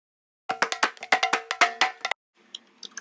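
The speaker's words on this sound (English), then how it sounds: "I believe they're bongos or congas" A looped bongo or conga sample pitched up 12 semitones plays as a quick run of bright, clicky, hollow hand-drum hits for about a second and a half, followed by a short pause and a few fainter, scattered taps.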